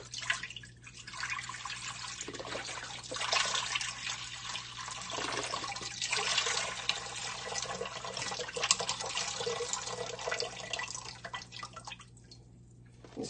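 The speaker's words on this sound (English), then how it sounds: "So I'm going to put all this broth in here." Vegetable broth pours from a freshly opened container into a quick cooker pot for vegan soup, a steady splashing gush of liquid running for about thirteen seconds, fairly close, with brief dips in the flow.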